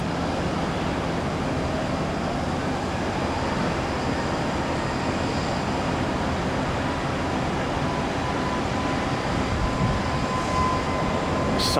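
Jet airliner taking off at Tampa airport, a steady, loud broadband roar that holds for the whole stretch without talk.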